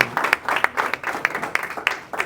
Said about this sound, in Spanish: Dale un aplauso a Cristo, glorioso Dios.